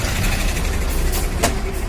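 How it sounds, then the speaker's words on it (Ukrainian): A large tractor engine rumbles steadily on a village street in mid-March, a loud, continuous low drone heard up close with a brief rattle near the end. "Які трактори великі возять."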